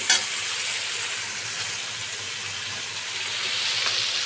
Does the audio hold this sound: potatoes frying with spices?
yes